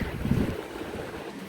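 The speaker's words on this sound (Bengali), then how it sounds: "তো বাতাস আছে ভালো।" Wind gusting outdoors under an overcast sky, a low rumbling buffet on the microphone that swells briefly and then settles into a steady roar, with no talk.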